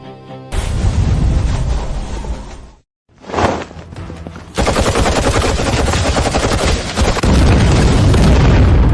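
A loud volley of gunfire in a dramatic action scene, dense rapid shots and booms filling most of the clip, broken by a brief near-silent pause before the barrage resumes even heavier.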